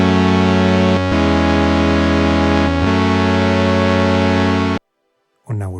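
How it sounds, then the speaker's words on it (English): Sustained synth tone from a Maschine+ Poly Synth on its initialized default patch, a steady harmonic drone held about five seconds with a brief dip near one and three seconds, then cut off before a short new note starts. "When we initialize our Synth, it sounds like this."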